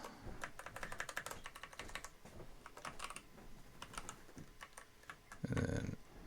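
Fingers typing on a computer keyboard, close and clear, in irregular bursts of rapid key clicks with short pauses between, ending in a louder cluster of presses.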